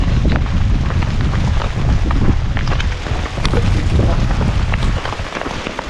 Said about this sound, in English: The storm was directly on me and the hail was pelting me in every direction.